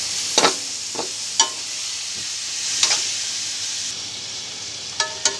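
Cut string beans for pork adobo are stirred as they fry in a pan, making a steady sizzling hiss punctuated by a few sharp scraping and clattering strokes of the spoon.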